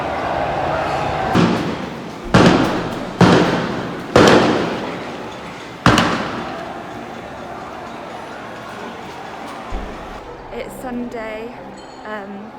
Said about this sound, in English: There's so many gunshots happening again right outside my apartment.